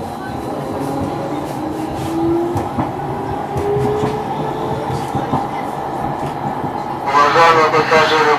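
A Stadler B85600M Chizhik tram runs through Saint Petersburg, heard from inside as a loud steady rumble of wheels and motor. A rising electric whine comes through the rumble, and the noise swells near the end.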